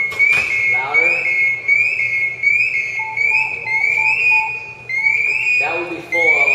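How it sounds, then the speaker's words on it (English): A smoke-detecting fire alarm at full alarm stage gives a loud, sustained, pulsing high-pitched tone with a repeating warble, heard up close and loud throughout. "That would be full alarm right there."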